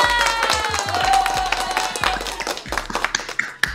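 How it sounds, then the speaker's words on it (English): An audience at a beginner coding session claps on request; a burst of hand claps over a fading musical tone, with sharp individual claps growing sparser and louder near the end. "Can I get a hand clap?"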